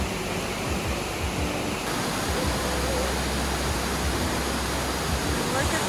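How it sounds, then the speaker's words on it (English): A waterfall pours in a steady, unbroken roar of rushing water that fills the whole scene at a constant level. "This waterfall is magnificent."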